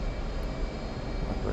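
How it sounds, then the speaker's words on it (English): F-15E jet engines in DCS World spool up to military power, a steady, dense broadband roar with no breaks, holding a constant loud level from start to finish. "Alright, so I'm spooling up to military power."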